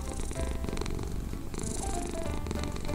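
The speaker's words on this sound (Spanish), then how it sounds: "Yo creo que lo que más me gusta es el ronroneo." A cat purrs right up close, a steady rumbling vibration with rhythmic breathing cycles, continuous and loud throughout.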